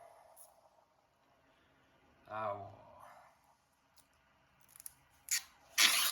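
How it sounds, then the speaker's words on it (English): Cheap tape is pulled from the roll and pressed down on a body panel of a rusty 1965 Falcon two-door post during frame rail repair: a quiet stretch, then a sticky tearing pull, and a sharp crinkly strip near the end. "Tape that down just like that"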